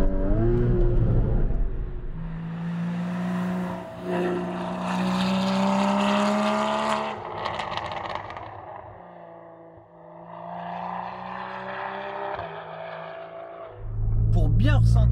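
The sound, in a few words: Porsche 981 Cayman 2.7 engine revving while driving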